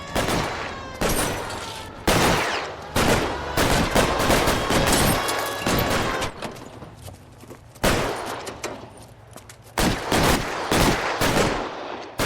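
Loud, sustained gunfight in the video game L.A. Noire, with dense bursts of rapid gunfire broken by brief lulls, close and dominating throughout.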